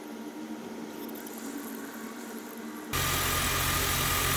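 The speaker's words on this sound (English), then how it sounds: "Here you can see the electric water pump pumping the water through the system." An electric water pump on a BMW N52 engine runs with a steady, close whir and hum that jumps abruptly to a much louder, broadband rush partway through.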